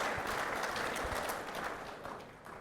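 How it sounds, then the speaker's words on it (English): A conference audience gives a steady, dense round of applause that holds at an even level and tapers slightly toward the end, with no talking over it. "Let's give them a round of applause."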